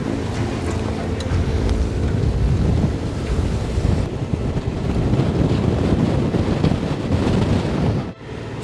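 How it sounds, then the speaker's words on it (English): Strong wind roars steadily across the sailboat S/Y Noomi II during a thunderstorm at sea, gusting to around 32 knots, with waves and water rushing beneath; the loud, dense noise is continuous, with a brief dip near the end. "32 knots was the highest wind we got"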